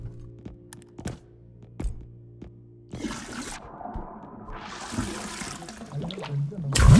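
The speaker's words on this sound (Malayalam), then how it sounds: "അല്ല അത് കക്കൂസ് ഫ്ലഷ് ആയതന്നെ" A clean household toilet flushes: a few soft thunks, then a loud rushing gush of water that swells and drains over several seconds, heard close up and alone.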